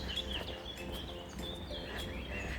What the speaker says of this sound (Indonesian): banyak suara burung, kayak fresh banget gitu pagi-pagi